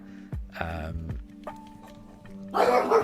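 A dog barks at noise from the surrounding neighbourhood, giving a few short, sharp barks at a moderate distance. A burst of louder, noisier sound follows near the end.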